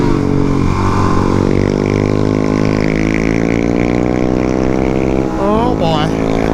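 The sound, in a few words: Suzuki DRZ400SM motorcycle engine with MRD exhaust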